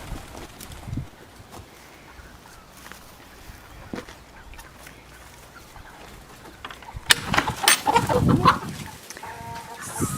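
Chickens cluck and murmur nearby, quiet at first, then a louder burst of clucking and squawks rises toward the end.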